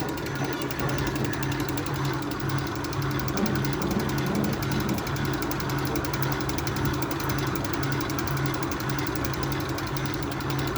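An electric motor hoists the feeder lines in a 120 by 10 metre broiler chicken shed, a continuous mechanical drone with fine rattling and ticking that stays steady and even throughout.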